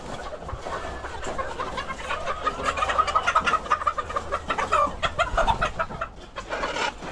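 Five white male chickens, roosters, clucking and calling in quick, overlapping bursts nearby, a busy chatter of fowl that grows denser midway.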